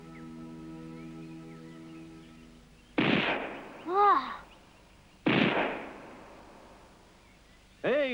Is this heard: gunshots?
yes